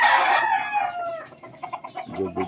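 Pet Boston-breed rooster crowing loudly up close, one long drawn-out call that fades, followed by softer clucking from nearby chickens.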